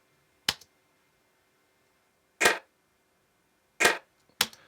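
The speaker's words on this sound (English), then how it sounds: "a sort of fairly horrible lo-fi sounding clap" Four sharp, dry lo-fi clap drum sample hits sound at uneven intervals with silence between them, each short with a slightly tinny, low-fidelity snap.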